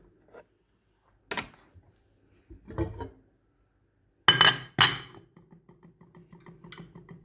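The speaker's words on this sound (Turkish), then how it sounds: "Tenceremi ocağıma aldım." A metal pot clanks and scrapes onto a stovetop, a few sharp clinks followed by a short rattling settle in a quiet kitchen.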